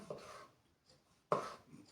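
Two quiet cutting strokes of a knife through soft mushrooms on a board, spaced apart, close and faint.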